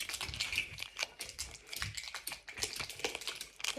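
Younger brother tearing open foil packs of trading card tins nearby: a steady run of crisp, crinkly rustles and small taps with no talking.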